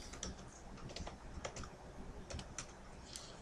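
Quick, irregular clicks of fingers typing a payment password on a computer keyboard, close and fairly quiet, with no voices.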